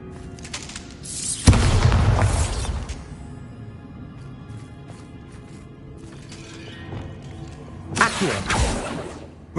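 Bombarda explosion spell in the Hogwarts video game, two heavy booming blasts with crashing debris spaced several seconds apart, each decaying into a rumbling tail between quieter moments.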